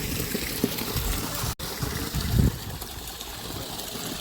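Water poured out for animals to drink, a soft close trickle and splash running steadily across the clip with a brief dropout midway and a slightly heavier gurgle just after.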